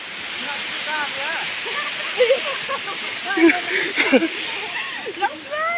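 Tyrshi Falls pours as a constant loud rushing roar, with people talking and calling over it close to the microphone.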